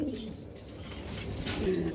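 Soft, low pigeon coos close by at a pigeon farm, a couple of throaty murmurs over faint background noise.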